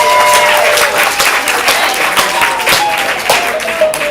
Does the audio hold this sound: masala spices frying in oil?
no